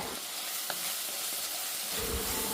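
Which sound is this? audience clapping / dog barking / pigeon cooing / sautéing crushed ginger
sautéing crushed ginger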